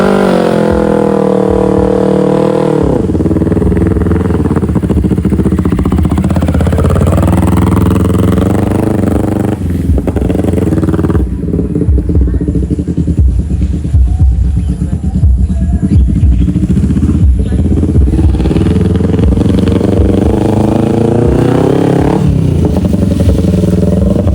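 A Kawasaki Ninja motorcycle revs hard on a dirt grasstrack race course, the engine roaring loud and continuous with rising and falling pitch, clattering and scraping through the run, close to the listener.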